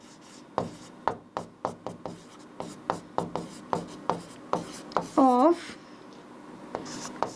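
Pen scratching out prime factors by hand during a Class 10 maths lesson on real numbers, a steady run of short close strokes across the page with a teacher talking over them.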